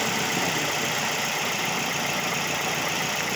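The engine of a Toyota Vios idles with a steady low rumble and a faint, irregular ticking knock running through it, heard close up with no talking.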